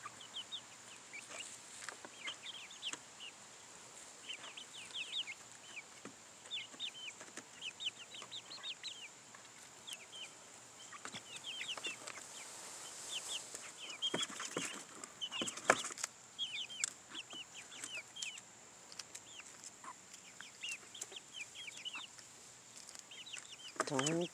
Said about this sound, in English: He is a good rooster.